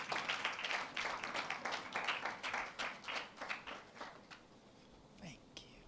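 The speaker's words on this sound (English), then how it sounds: "Please, a round of applause as she comes on stage." Audience applause at a STEM festival launch event as a sponsor speaker walks on stage, a moderate patter of claps from a seated crowd that thins and fades out over several seconds, with a few murmurs underneath.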